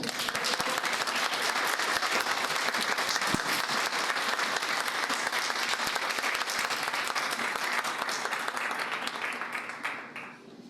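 An audience at a talk on local historical memory gives loud, dense applause after a presentation, holding strong and even for about ten seconds before tapering off at the end.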